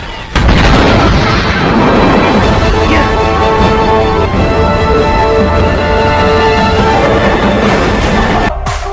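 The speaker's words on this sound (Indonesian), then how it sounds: "tempat tersebut langsung meledak dan hancur" A massive film explosion roars and rumbles continuously, loud and dense, with crackling debris throughout before cutting off abruptly.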